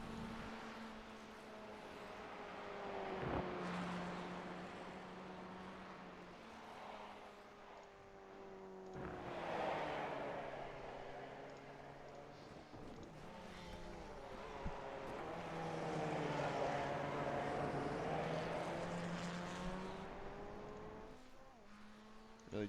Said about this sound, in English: Really just getting a good listen here to what the car from Grapevine sounds like